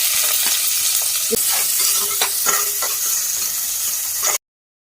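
Whole spices (bay leaf, cardamom, cinnamon, cloves), two dried red chillies and onion fry in a pan for paneer masala, giving a loud continuous sizzle with scraping stirs before it cuts off abruptly.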